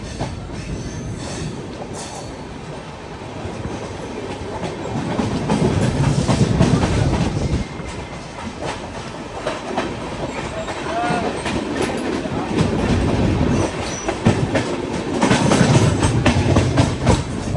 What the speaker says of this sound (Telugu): మన ట్రైన్ స్టేషన్ నుంచి ఇలా బయటకు వస్తుంది, అలా స్టేషన్ లోకి ఇంకో ట్రైన్ అయితే వెళ్తుంది అనమాట